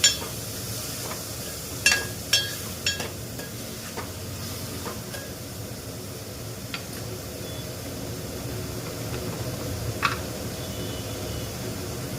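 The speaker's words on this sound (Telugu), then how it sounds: "ఆలుగడ్డ వేస్తున్నానండి. కొంచెం ఫ్రై చేసుకోవాలి." Potato pieces frying in a pan, a continuous low sizzle with a few clinks and scrapes of a utensil stirring early on, then mostly even frying noise.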